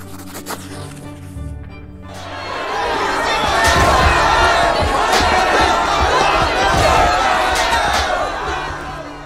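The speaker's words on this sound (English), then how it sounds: "As you leave, the hall behind you erupts into screams of rage" Crowd in a courtroom from the video game The Life and Suffering of Sir Brante erupts into loud, sustained screaming and shouting, swelling after a quieter opening and staying dense and chaotic throughout.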